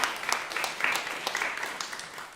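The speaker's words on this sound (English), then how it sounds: "can you please give yourselves a round of applause?" Concert audience giving a brief round of applause, a fairly quiet, scattered patter of hands with individual claps audible.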